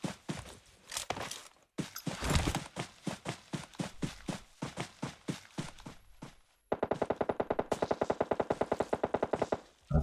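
Rapid bursts of automatic gunfire from a Harry Potter Deathly Hallows video game, irregular volleys early on, then a sustained, evenly paced stream of loud shots near the end.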